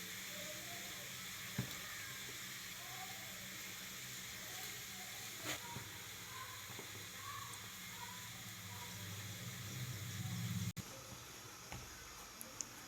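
Gram flour (besan) dry-roasting in a pan while aloo gola kebabs are being made gives a faint, steady hiss with scattered soft crackles, close by and with no talk.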